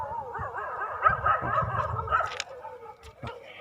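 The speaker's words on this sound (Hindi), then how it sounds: "ये सारे कुत्ते भौंक रहे हैं" Several dogs bark and yip close by in a village at night, a dense overlapping chorus of barks and whimpers that runs throughout without pause.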